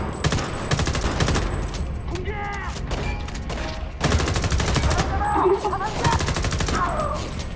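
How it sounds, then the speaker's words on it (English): Rapid bursts of automatic gunfire in the video game Homefront The Revolution crackle in dense volleys with short pauses between them, loud and close, while a person talks over the shooting. "Where am I getting shot from?"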